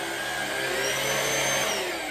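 Cordless stick vacuum cleaner running at a steady whining hum, close and loud, alone with no talk.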